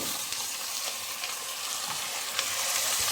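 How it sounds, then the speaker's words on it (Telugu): Tomatoes frying in a pan for Andhra gongura curry, a close, steady crackling sizzle with faint stirring, no talking. "బాగా ఎర్రగా వేయించుకోండి బాగా ఎర్రగా వేగాయి కదా ఇప్పుడు టమాటాలు"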